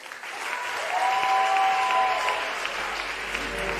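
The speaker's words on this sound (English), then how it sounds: "a round of applause for Oohima." An audience at a televised talent show claps in a steady, dense burst that swells and then slowly fades, with no talking.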